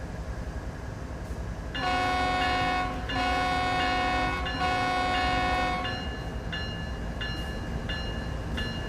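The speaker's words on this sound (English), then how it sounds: "that guy didn't even tell me to sound my horn" A BNSF diesel locomotive horn blasts in Train Sim World 3 on the Cajon Pass route, sounding three long chords in a row, followed by a few short, fainter toots over steady engine rumble.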